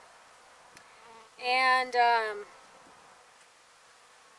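Honey bees buzz loudly in a hive for about a second in two close swells, with quieter hum and a brief spoken word around them.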